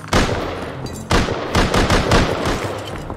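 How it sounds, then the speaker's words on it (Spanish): Loud bursts of rapid gunfire in Rust crackle close by, several volleys in quick succession with brief gaps between them. "Por fuera disparos"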